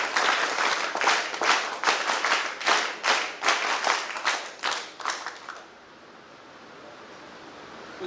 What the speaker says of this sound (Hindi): अब सारी किरण बेदी बैठी हुई है तो उनके लिए जोरदार ताली बजाए